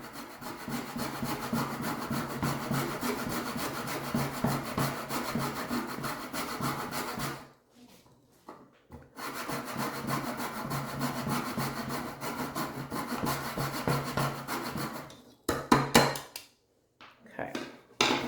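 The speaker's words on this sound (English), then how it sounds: "Just grating it into a separate bowl." Food being grated by hand into a separate bowl for vegan pumpkin spice scones, a steady rasping scrape in long continuous bursts, with a pause near the middle and short broken strokes toward the end.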